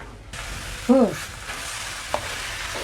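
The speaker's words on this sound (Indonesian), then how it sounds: "Aku lanjut aduk lagi ya" Thickening jam being stirred in a cooking pan, a soft steady scraping and low bubbling with a brief louder clunk near the start and a small knock later.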